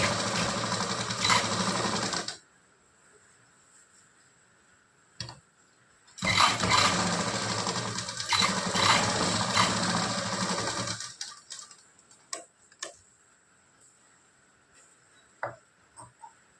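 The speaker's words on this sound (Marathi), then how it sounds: "आता परत हे उलटं करून परत शिलाई मारायची." A sewing machine runs a cover stitch along the shoulder seam of a blouse in two loud, steady bursts of rapid mechanical whirring separated by a pause, then fades to quiet handling clicks and faint rustles.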